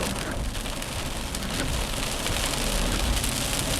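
Steady rain pours down at a Khao Yai campsite, drumming densely on a surface with a constant hiss that swells slightly louder toward the end.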